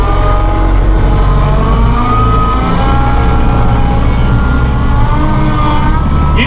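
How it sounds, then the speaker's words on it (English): A heavy Massey Ferguson tractor engine with a hydrostatic transmission roars steadily up close, its pitch rising as it revs, loud and continuous with no talking. "You can hear that engine revving up."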